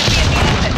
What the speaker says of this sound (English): Ally cluster strike inbound.